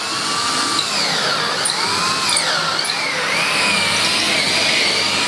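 A power drill whines steadily with rising and falling pitch as it bores through a door, loud and close, with no speech.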